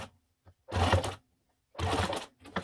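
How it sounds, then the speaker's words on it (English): A domestic sewing machine runs two short bursts about a second each, stitching a ruffle onto recycled curtain fabric for pillows, with a brief quiet pause between the whirring runs. "it's probably easier to control it on this sewing machine at this point"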